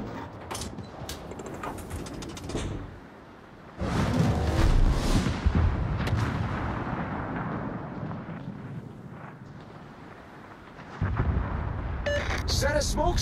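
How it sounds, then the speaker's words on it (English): Naval guns fire in a warship video game, heavy booming blasts and rumbling explosions layered densely over continuous battle noise, loud throughout with a brief lull before the barrage swells again, and a voice speaking over the action. "All stations, concentrate fire on the target."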